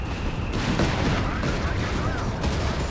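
Tank cannon fire and battlefield gunfire in the strategy game Company of Heroes 3, with Panther tanks engaged, forming a dense continuous barrage of shots and impacts under a commentator's voice.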